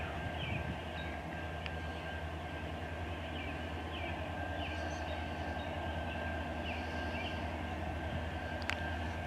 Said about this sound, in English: This is my first nighttime train here. Here it comes.